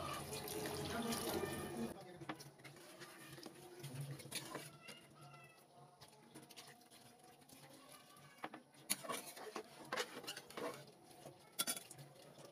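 Water runs and splashes as a spice bowl is rinsed and the water poured into a pan of cooking mung dal for a mung and brinjal dish, with steady patter and a brief louder pour at the start.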